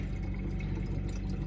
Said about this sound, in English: And I have to refill this container of water first